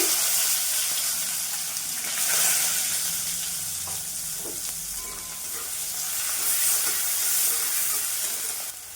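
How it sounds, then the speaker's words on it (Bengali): Chopped onions sizzle steadily in plenty of mustard oil, a close, continuous frying hiss with occasional soft stirring knocks and no talking. "পেঁয়াজটা লাল লাল করে ভেজে নি"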